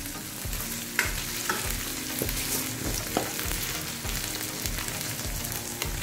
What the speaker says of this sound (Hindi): चलो इसको फ्राई कर लेते हैं। भिंडी को चम्मच चलाते रहेंगे।